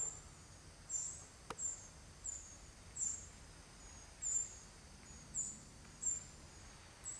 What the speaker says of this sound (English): There's just a family of baby wrens there in that bit of scrub.